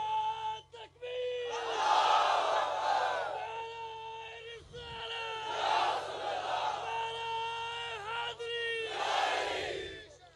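A large crowd chants slogans in unison at a religious gathering, three long swelling waves of massed voices separated by short pauses and a deep background hum.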